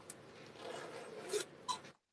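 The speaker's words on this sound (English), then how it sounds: "So it's got a zipper on the back." A zipper on the back of a vintage open-back halter dress being pulled, a short quiet rasping run with two brief sharper zips near the end.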